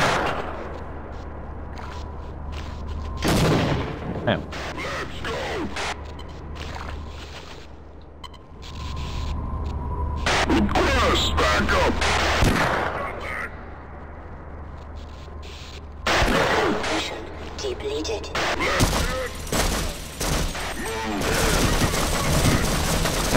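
Heavy repeated gunfire and blasts in the game Sven Co-op come in dense, loud bursts with short lulls between volleys, close and continuous across the stretch, with some talk under it.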